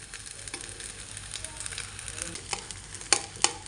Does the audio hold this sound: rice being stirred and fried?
yes